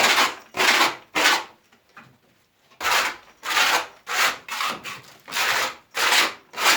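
A spatula and wire brush scrape across a set plaster wall being given a loft-style finish, making about ten loud, rough strokes in a steady rhythm with a brief pause partway through.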